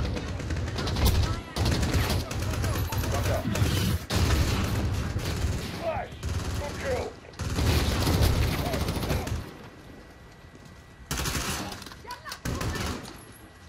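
Gunfire in the Call of Duty: Modern Warfare campaign, bursts of rifle and machine-gun fire with heavy impacts coming in loud clusters separated by short lulls.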